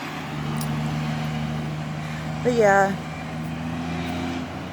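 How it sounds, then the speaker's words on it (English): Steady traffic roar from cars driving along a road beside someone walking, a low engine drone running throughout with a brief swell midway as a vehicle passes close; a voice speaks one short word. "Sorry for the noise, but that's cars driving by."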